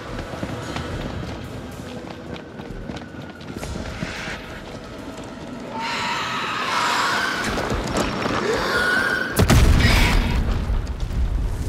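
A loud explosion in the video game The Dark Pictures Anthology: House of Ashes, a sudden heavy boom near the end after a stretch of rumbling, crackling combat noise with bursts and debris.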